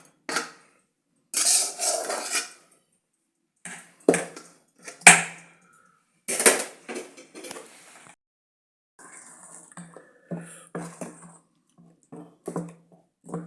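Instant uttapam batter, made without grinding, is stirred together in a bowl. A spoon scrapes and clinks against it in short, irregular bursts separated by quiet pauses.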